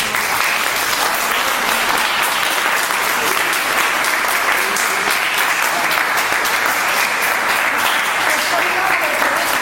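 A class of students applauds at the close of a lesson, steady dense clapping that holds loud and even throughout with a murmur of voices mixed in.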